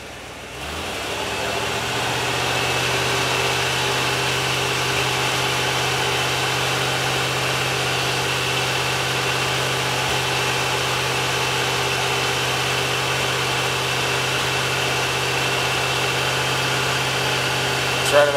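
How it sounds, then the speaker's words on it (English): Ford 460 EFI V8 running with an idle problem, a steady mid-pitched engine hum that rises after about two seconds and then holds evenly without clear surges, close and alone with no talk. "I'll try revving it at a few different RPMs."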